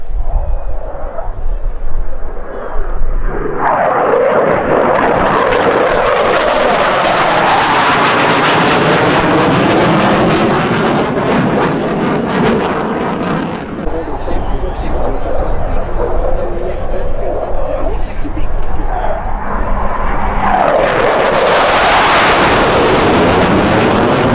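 CF-18 Hornet fighter jet passing at an air show, a loud roaring swell that rises, fades, then surges again with Doppler-like sweeps, with an announcer talking over the noise.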